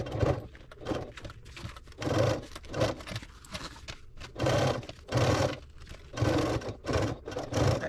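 A sewing machine stitches a 3/8-inch seam allowance through tote bag lining fabric, running in a steady series of rhythmic whirring bursts with brief pauses between them, close and alone.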